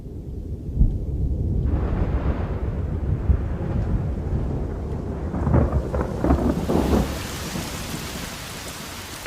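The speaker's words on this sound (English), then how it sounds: "On the Masai Mara, the storms of October approach." Rain and thunder from a storm moving in over the Masai Mara in October, a steady heavy wash of rainfall with low rolling rumbles swelling through the middle, no voices.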